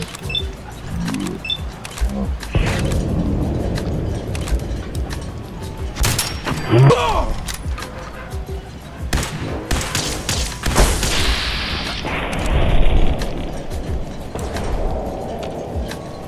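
Gunfire from Fallout 4 rings out in sharp cracks and bursts amid game action sounds, some close and loud, others scattered, with a brief whirring mechanical noise partway through.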